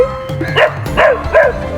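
A dog reacts to its own recorded voice played from a speaker with three short, loud, close yelping barks in a steady rhythm, whining slightly between them.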